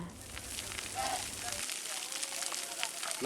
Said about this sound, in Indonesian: Relawan dan petugas pemadam kebakaran bergerak cepat memadamkan api yang membakar lahan di Jalan Mugirejo